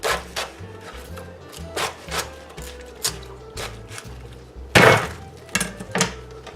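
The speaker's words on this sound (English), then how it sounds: "with this I'm gonna cut this in half" A knife cuts through a big head of cabbage on a cutting board, with a series of crunchy, crackling cuts and knocks at irregular intervals and one louder snapping crunch near the end, close up.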